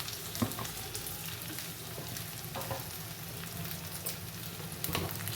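Boiled chicken frying in a pan of curry gives a steady close sizzle, with a few soft stirring scrapes breaking through.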